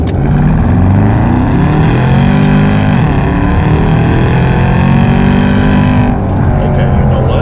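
A Porsche Panamera turbo with a modified exhaust accelerates hard, a loud, raspy engine roar climbing continuously and close up, with wind and road noise filling the background.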